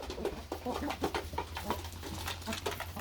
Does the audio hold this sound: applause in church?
no